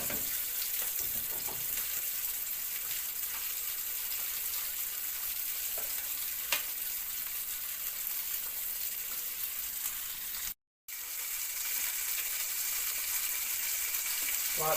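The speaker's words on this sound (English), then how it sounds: "Like the fish now on one side, fried up nice and light, so I've turned it around." Fish for brown stew fish sizzles in hot oil in a pan, just turned to its second side. The frying is a steady, close, continuous crackle that runs throughout with no talking.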